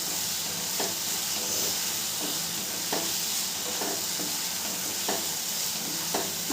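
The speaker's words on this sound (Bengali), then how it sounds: "আলুটা দিয়েও মশলার সাথে খুব ভালো করে আমি কষিয়ে নেব" Potatoes sauté with spices in a pan for an omelette curry: a dense, loud hissing sizzle runs throughout, with soft rhythmic scrapes of a spatula stirring roughly every second.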